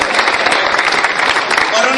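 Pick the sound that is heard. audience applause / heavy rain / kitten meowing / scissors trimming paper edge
audience applause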